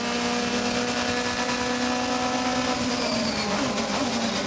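DTM race cars from 2001 scream through the Zandvoort circuit in a first-lap pack, high engine whine layered and shifting in pitch as several cars pass close and loud.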